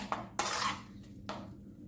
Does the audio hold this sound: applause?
no